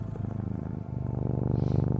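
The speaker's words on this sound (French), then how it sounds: "Plus d'approcher ce chat aux allures célestes, plus son ronronnement intensifie la relaxation" Close, steady cat purring in a calm relaxation setting, a continuous low rhythmic rumble with regular breathing pulses that grows slightly stronger toward the end, with no talking.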